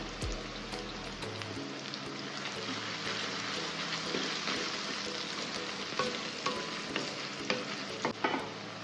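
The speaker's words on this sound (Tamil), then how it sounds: "வெங்காயம் பூண்டு சேர்ந்து வதங்கட்டும்" Onion and garlic sauté in a pan with a little rock salt, giving a steady frying sizzle with stirring scrapes throughout. No one speaks.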